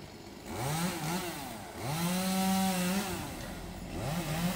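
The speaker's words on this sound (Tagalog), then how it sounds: "Pasensya na guys at maingay yung chainsaw." A chainsaw cuts trees at a logging site in Japan, its engine revving up in three long rising whines with short dips between cuts, loud and close, with no talking.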